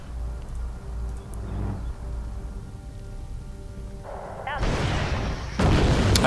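Explosive artillery and gunfire blasts from a war strategy video game match, a low rumbling battle backdrop swelling into loud, dense crackling impacts near the end.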